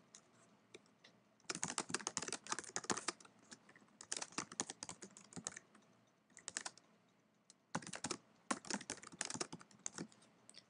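Someone types on a computer keyboard in close, rapid bursts of key clicks separated by short pauses, quiet and steady over about ten seconds with no talking.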